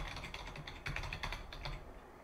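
Quick typing on a computer keyboard, a close, quiet run of rapid key clicks lasting about two seconds before trailing off, with no talk.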